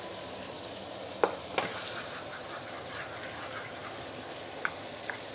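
Garlic, ginger and spring onion frying in chili oil give off a steady, soft sizzle, with a few sharp pops and spatters rising above it, close and fairly quiet.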